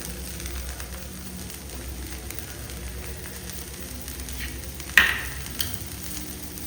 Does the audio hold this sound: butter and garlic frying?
yes